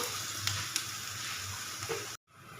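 Garlic and ginger fry in oil in a pan for a vegetable dish, giving a steady close sizzle with a few light stirring clicks before it cuts out abruptly near the end.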